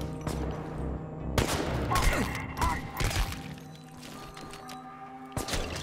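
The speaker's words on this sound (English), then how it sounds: "Who else shooting at me?" Gunfire in the video game Chernobylite, a busy mix of bursts and thuds with sharp shots around the 1.4, 2, 3 and 5.8 second marks over continuous game noise.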